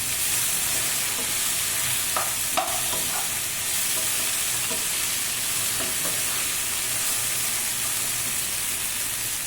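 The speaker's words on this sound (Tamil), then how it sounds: "வெண்டைக்காய் நல்லா வதக்கி எடுத்துக்கலாம்." Sliced okra for a bhindi gravy sautés in a pan, a continuous loud sizzle and hiss with a few scattered scraping stirs and faint clinks, no voices present.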